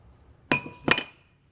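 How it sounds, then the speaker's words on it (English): Two sharp metallic taps about a third of a second apart as a hammer strikes a screwdriver to split the brake disc from the hub on a vintage air-cooled Porsche 911, close and ringing, with no talk. "then I'll use my hammer to tap it in and start splitting everything apart."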